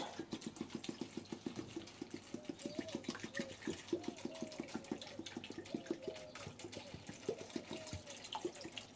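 Photographic fixer poured into a Lomo developing tank for 16mm film, a steady close liquid trickle and splash running throughout with faint clinking and bubbling, no voices.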